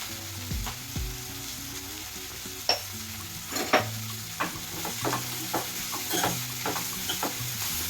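Onions with salt sizzling in hot oil in a pan, a steady frying crackle with repeated spatula scrapes and soft knocks against the pan.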